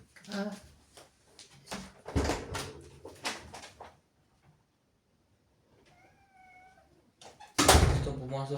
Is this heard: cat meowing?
yes